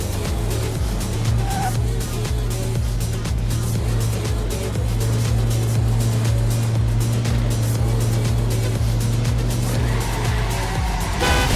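A car engine in a video game drones steadily at a constant pitch, loud and continuous with a low hum and faint road noise, an occasional voice heard beneath.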